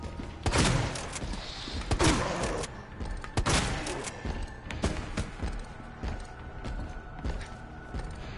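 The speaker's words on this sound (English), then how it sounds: "I hear shooting." Heavy gunfire echoes through a Resident Evil 2 scene, with a few strong blasts early on followed by lighter, scattered cracks and mechanical clatter that continue at a steady level.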